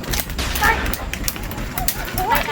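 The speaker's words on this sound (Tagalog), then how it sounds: "Nagpaputok na sila. Sobrang dami na." Video game gunfire crackles in dense, rapid volleys, with sharp overlapping shots and bursts filling the whole moment.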